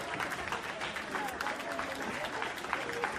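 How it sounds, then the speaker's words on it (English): A crowd of hundreds cheers and applauds in a dense, continuous roar of clapping and voices that holds steady for several seconds. "Hundreds and hundreds of people. They're cheering. They want more."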